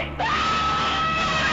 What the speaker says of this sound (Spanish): Aquellos crispantes alaridos hacían estremecer toda la casa.